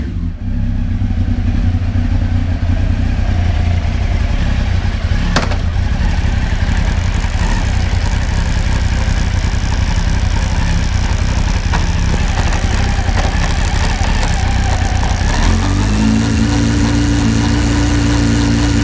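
A motorcycle engine, just fitted with a new bolt and washer at the sprocket, runs at a steady loud idle close by with mechanical clatter, its tone shifting briefly near the end, with no talk.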